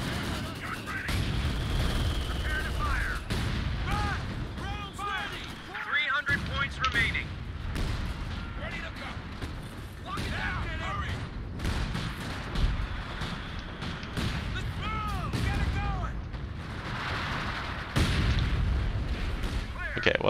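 Artillery barrage in a 4v4 video game match: a steady rumble of distant booms and impacts with scattered shot-like cracks, underneath continuous game sounds and a voice talking over it.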